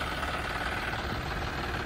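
A Ford 3000 tractor engine idles close by, a steady, even rumble with a continuous mechanical chatter that holds constant throughout without revving.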